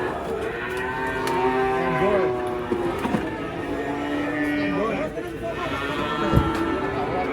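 Cattle low repeatedly at a cattle weighing station as they come down from a truck. The long, drawn-out moos overlap one another amid outdoor commotion, with people talking nearby throughout.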